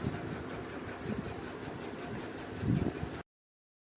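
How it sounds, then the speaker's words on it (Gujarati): Steady low rumble and rattle of a metro train interior while riding, with a brief heavier clatter near the end before the sound cuts out; no talking. "તો આપણે બેસી ગયા મેટ્રોમાં"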